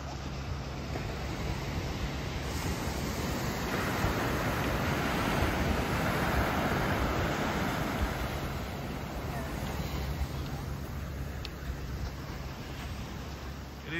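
Surf breaks on a beach in Fuerteventura, a broad steady wash of waves that swells and fades, heavily mixed with wind buffeting the microphone.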